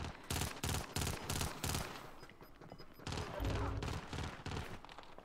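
Bursts of video game gunfire from enemies firing out of a building, loud rapid volleys and fusillades in clusters with brief gaps, while players talk over the shooting.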